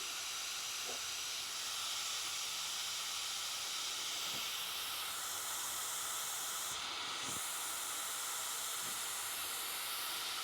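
A coolant bleed tool from Harbor Freight hisses steadily as it fills a car's cooling system, a soft continuous airy rush with a few faint clicks.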